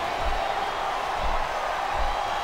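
Wrestling arena crowd at a WWE SmackDown Backlash match, a steady, distant roar of many voices without distinct cheers or peaks.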